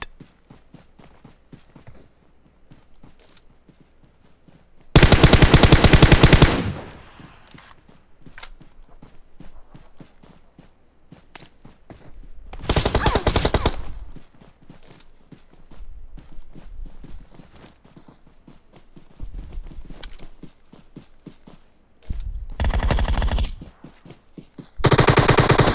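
Bursts of automatic gunfire in a video game ring out in several sharp, loud volleys of rapid shots, with quieter footsteps and game noise between the bursts.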